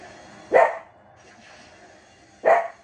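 A dog in the video game Sonic Frontiers gives two loud, separate barks about two seconds apart. Quiet game ambience fills the gap between them.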